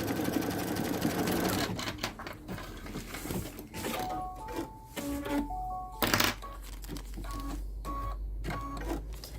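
A sewing machine joins two pieces of fabric in short bursts of fast rattling stitches, with pauses and handling noises between runs, close and fairly quiet.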